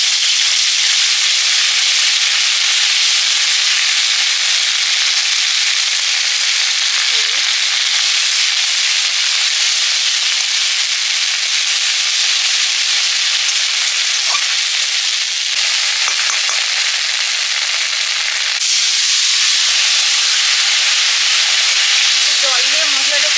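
Ground cumin, ginger and green chilli paste fry in a pan with a loud, continuous bright hiss and sizzle. There are a few small clinks and scrapes.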